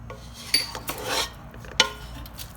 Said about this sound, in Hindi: अब हम इनको अच्छे से मिक्स कर लेते हैं